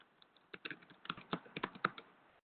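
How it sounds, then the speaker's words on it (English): Quick, light keystrokes on a computer keyboard enter a web address, a soft close-up patter of uneven taps with short pauses, fairly quiet and without voices. "So you can type in the URL"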